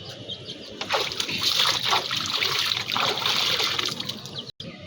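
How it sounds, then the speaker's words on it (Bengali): Water trickles and splashes steadily in a rooftop garden, a continuous close wash of dribbling and light sloshing with a brief cut near the end. "এই দেখো পানি।"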